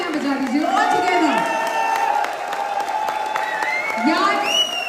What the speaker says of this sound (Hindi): तो दोनों हाथ ऊपर करके जोरदार तालियां बजा दीजिए।